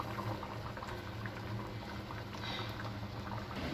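Food reheated in a pot on a stove boils with a soft, continuous bubbling and faint popping, close by and steady throughout, with no talk.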